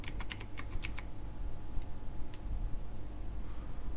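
A burst of computer keyboard typing, a quick run of close, crisp key clicks in the first second followed by a couple of isolated taps, over a quiet background hum.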